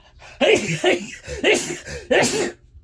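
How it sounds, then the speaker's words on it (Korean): A man coughs in a series of four harsh, throaty bursts spaced roughly half a second apart, close and loud against a quiet room. "기침 나오네요"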